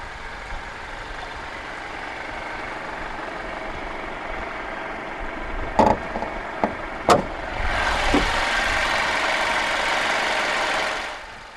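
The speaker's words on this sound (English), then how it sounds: "Underneath the C200's bonnet is Mercedes' M274 DE20AL 2-litre dual overhead cams, 16 valves, turbocharged inline-4 petrol engine with direct injection" A 2015 Mercedes-Benz C200 W205 with its M274 2-litre turbocharged direct-injection inline-4 petrol engine idles with a steady low hum, a few sharp clunks midway, then a broad rushing swell near the end.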